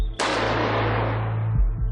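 A sniper rifle fires a single loud, sharp shot during training, and the blast rolls off in a long, fading echo that carries on with no talking.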